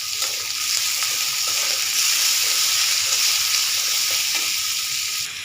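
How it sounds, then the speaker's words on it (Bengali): Onions salted to soften them fry in a pan for a pabda fish dish, a loud, dense, unbroken sizzle close up with faint stirring underneath. "দিয়ে আমি পেঁয়াজটা ভেজে নেব।"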